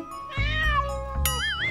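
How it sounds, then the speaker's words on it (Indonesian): A cat meows in a long, drawn-out wail with rising and falling pitch, close and clear, with no one talking. "itu suara kucing"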